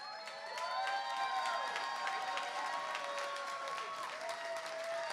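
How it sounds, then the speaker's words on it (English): Audience applause with some cheering at a live show in an arts centre, steady dense clapping throughout, with faint whistles and voices mixed in. "give at least a smattering of applause for Professor Iggy Iguana"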